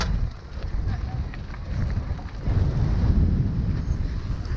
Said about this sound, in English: It's windy now.